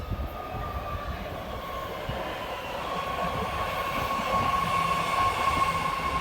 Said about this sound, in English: Oh, the blue line's here.